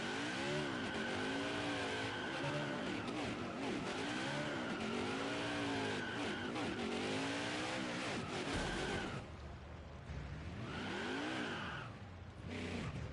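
A NASCAR Heat 5 race car does a burnout on the bricks, its engine revving in repeated rising and falling sweeps with tire squeal, loud and close, briefly dipping before revving up again.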